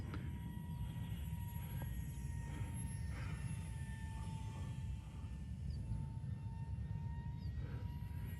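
A micro RC F-16 model jet flies at full throttle, giving a steady, fairly faint whine with a thin high tone that holds throughout with no break, heard from a distance and with no talking.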